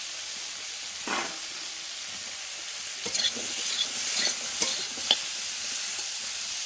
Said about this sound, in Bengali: আলু আর ঝিঙেটা হালকা করে একটু নেড়ে নেবো